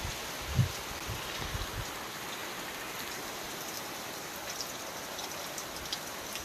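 Steady heavy downpour in Guwahati hissing across surfaces, with a few louder thuds near the start and scattered drips; no voices.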